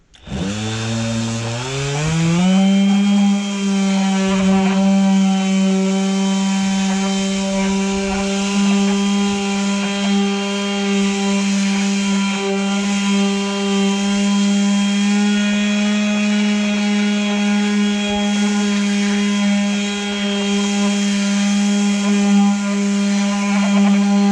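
DEWALT 20V MAX XR cordless palm sander running on a higher speed setting, spinning up over the first couple of seconds into a loud, steady buzzing whine that holds constant and close throughout.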